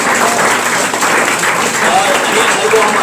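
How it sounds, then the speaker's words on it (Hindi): An audience gives loud, sustained applause for schoolchildren at an event celebrating top exam results, dense continuous clapping close by with some voices mixed in. "तो एक बार इन बच्चों के लिए एक बार जोरदार तालियां हुई।"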